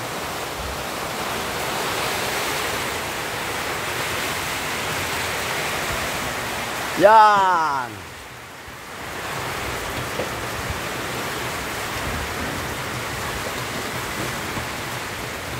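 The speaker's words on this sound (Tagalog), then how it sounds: "Ayan, lumakas ang ulan, oh, pakita ko sa inyo." Heavy rain and strong wind in Iloilo City make a thick, steady roar filling the whole stretch. One short voice breaks in near the middle and the wash dips briefly before returning.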